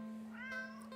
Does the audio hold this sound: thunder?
no